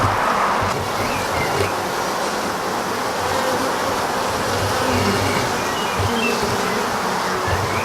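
Honeybees at an open hive during an inspection buzz and fan their wings in a loud, dense, continuous drone that fills the clip steadily from start to end, with no talking.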